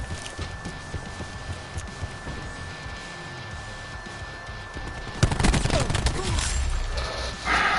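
Gunfire in a team deathmatch video game: steady quiet rapid shots at first, then a sudden louder burst of fire around the midpoint that keeps up, dense and close, to the end.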